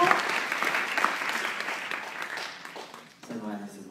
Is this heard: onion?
no